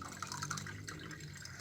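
Water pours from a container into a cooking pot for an atis leaf tea, a brief steady splashing fill heard close and alone.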